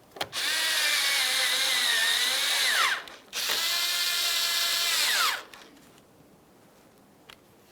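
A power tool tightens 10mm bumper bolts on a 2006-2012 Ford Fusion during headlight replacement, with two loud whirring runs of about three seconds each that bog down as the bolts snug, then quiet.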